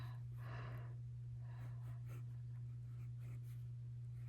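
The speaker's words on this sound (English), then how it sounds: "we are just going to write" A Monteverde Innova fountain pen writing on paper, soft scratchy strokes in short bursts over a steady low mains hum, very faint and close with no talk.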